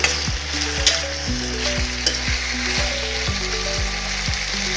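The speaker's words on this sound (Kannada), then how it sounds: "ಇವು ಕೂಡ ಚೆನ್ನಾಗಿ ಎಣ್ಣೆಯಲ್ಲಿ ಫ್ರೈ ಆಗಲಿ" Capsicum (bell peppers) frying in oil in a pan, a loud close sizzle with repeated scraping stirs in a regular rhythm, no voices.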